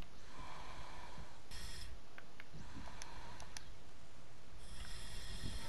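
Heavy, rasping breathing in the video game Wolfenstein: The New Order, harsh snorting breaths repeating in a slow rhythm, close and loud, with no talking.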